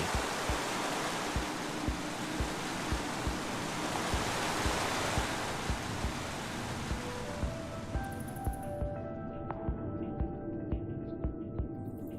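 Steady roaring rush of a waterfall in the Minecraft Story Mode video game, loud and continuous, with soft rhythmic thumps underneath and faint tonal music notes entering toward the end.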